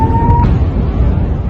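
A missile explodes nearby during a strike on an Israeli city, heard as a loud, deep, continuous rumble that fills the whole moment without a pause.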